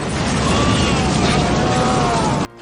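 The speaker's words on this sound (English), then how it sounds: "lots of explosions, including this iconic money shot here" A huge explosion from the Hong Kong–style action film Double Team roars as a loud sustained blast that rumbles on before cutting off abruptly.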